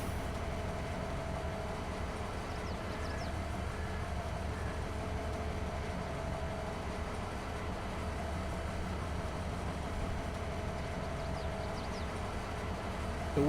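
A freight train in the video game Farming Simulator 22 rumbles along steadily, a continuous low rolling drone with faint clanks, with no talking.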